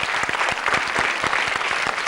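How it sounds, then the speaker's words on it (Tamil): A studio audience on a children's TV quiz show bursts into loud applause, with sharp, distinct claps close by on top of a dense wash of clapping lasting about two seconds. "கைதட்டு"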